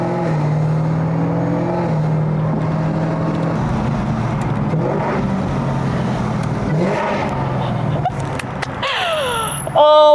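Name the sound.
Chevrolet Camaro ZL1 tuned on ethanol, engine while driving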